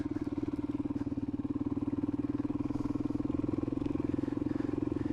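A motorcycle engine runs with a rapid, even exhaust pulse, a steady low throbbing beat that stays close and constant through the whole stretch, without speech.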